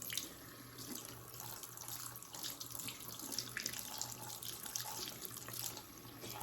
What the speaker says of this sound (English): make sure you're rinsing your brushes out really, really good